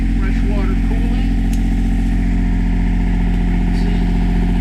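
Detroit diesel marine engines run in the engine room of a NautiQuest 42 tournament sportfisher, a loud, steady, close-up drone with a deep throbbing hum that holds even for the whole stretch.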